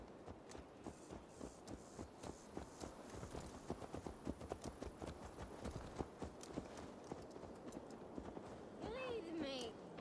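Horse hooves clip-clop steadily in Assassin's Creed Valhalla, an even walking rhythm of hoofbeats close by, with someone talking over them and a short whinny near the end.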